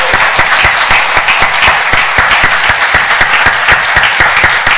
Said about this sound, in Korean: 하나님께 영광의 박수를 다시 한번 돌리십시다.